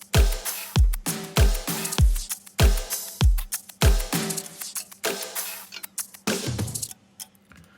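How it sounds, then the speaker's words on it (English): Punchy electronic dance drums with heavy kicks pounding in a steady beat, a ticking clock layered on top before the pattern thins out near the end. "I bring in the clock, and that just helps to transition from this part of the drop into the orchestral section."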